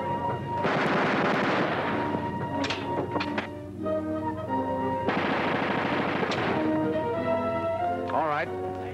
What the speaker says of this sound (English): Pick one and fire it until it jams, then find out what's wrong with it.